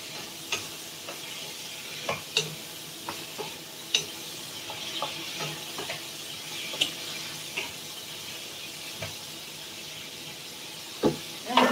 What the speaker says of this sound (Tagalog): I'm gonna mix it.